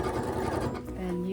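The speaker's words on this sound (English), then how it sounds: "And so then we can just start sewing our serpentine stitch." A sewing machine runs a serpentine stitch across quilt sashing, making a steady, close mechanical whir without pause for the whole short stretch.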